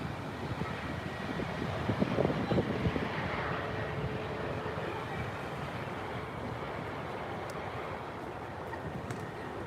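A KLM Embraer E190 airliner lands at Heathrow on a sunny day. Its engines make a steady, moderately loud roar heard from a distance, mixed with gusty wind noise on the microphone.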